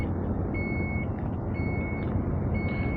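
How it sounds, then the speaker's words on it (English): Power tailgate on a 2023 Dodge Durango closing with a steady, loud electronic warning beep repeating about once per second over a low motor and ambient hum. "And it beeps, you know, because they don't want your kids, nobody getting hurt from this tailgate because it's big."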